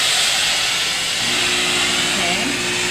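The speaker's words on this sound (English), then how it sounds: "you just want to get some steam going." A steam iron releases a steady, loud hiss of steam while pressing wool through a press cloth, held about an inch above the fabric; a low hum joins in partway through.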